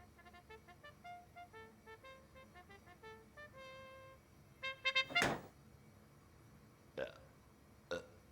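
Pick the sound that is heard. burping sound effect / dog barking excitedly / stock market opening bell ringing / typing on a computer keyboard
burping sound effect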